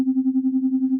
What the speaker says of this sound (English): So you've got a sine wave